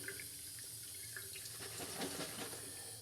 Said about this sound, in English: go ahead and rinse the bottle from the protein that I got on here